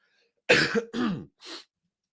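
A man gives a short cough and then clears his throat, three quick separate bursts heard close up against otherwise silent surroundings.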